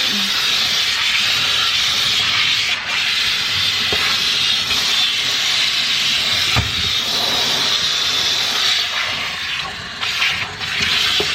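Steady, loud spray of water wetting a Goldendoodle puppy's coat during a bath, a continuous broadband hiss running without a break, with small bumps and shifts as the stream moves.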